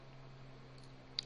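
A single crisp mouse click on a computer, short and close, near the end of a quiet stretch with a faint steady hum behind it.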